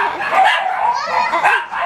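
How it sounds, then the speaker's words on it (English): A dog yips and barks at a pool day with a small child, the short high bursts close and fairly loud, repeating throughout with no talk. "She heard this doggy."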